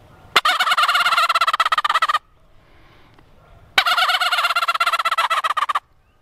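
Diaphragm turkey mouth call with reeds, blown to imitate turkey calls: two loud, close bursts of rapid, raspy gobbling clucks, each about two seconds long, separated by a short quiet gap.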